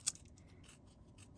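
Scissors trimming tape, one quick crisp snip near the start, then faint rustling at low volume.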